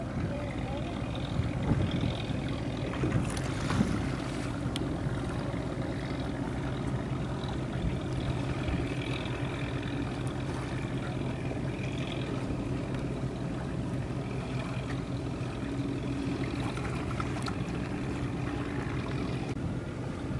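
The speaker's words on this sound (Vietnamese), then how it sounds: "có chiếc ghe đang chạy thử máy ha xịt khói đen luôn chạy nghiêng" A fishing boat's engine on a test run in choppy sea, a steady low rumble over wind and water noise, with someone talking over it throughout.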